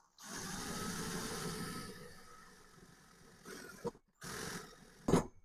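A power drill driving a self-tapping screw for laundry room shelving whirs for a couple of seconds, then trails off into short bursts and a sharp final grind as it bites in.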